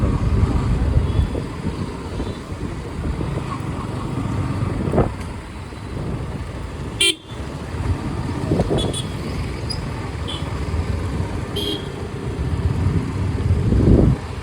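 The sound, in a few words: heavy road traffic in Bangalore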